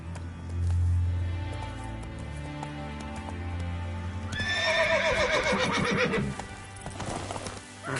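Roach, a horse in The Witcher 3: Wild Hunt, gallops with steady clip-clop hoofbeats while game music plays, then lets out a loud close whinny partway through, with hooves continuing afterward.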